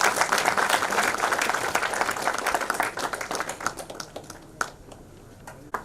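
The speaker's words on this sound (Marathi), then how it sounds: "एकदा जोरदार टाळ्या होऊ द्या." An audience applauds at a farewell ceremony, a burst of dense clapping that thins out into a few scattered last claps.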